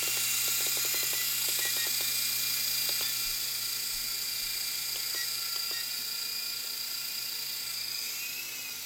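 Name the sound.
E-flite Blade mcX micro RC helicopter rotors spinning while trimmed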